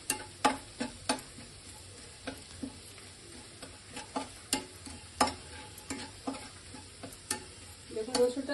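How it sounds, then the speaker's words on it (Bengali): Chopped garlic fries in oil before cooked rice goes in for fried rice, giving a soft, quiet sizzle broken by frequent sharp clicks and taps of a spoon against the pan, with the scraping growing busier toward the end. "এই রসুন কুচি এর মধ্যে একটু দিয়ে দিলাম। একটু লাল লাল করে ভাজা হয়ে গেলে আমি ভাতটা দেবো"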